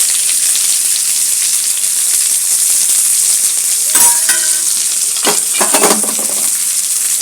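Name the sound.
black cumin and onion frying in hot oil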